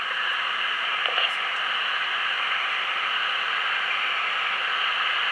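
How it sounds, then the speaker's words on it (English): A dehumidifier runs steadily in a room, giving a continuous, even hiss-like whir at a constant level for the whole stretch, with no talking over it. "the only thing you'll probably hear is a light noise from the dehumidifier that is going in the background"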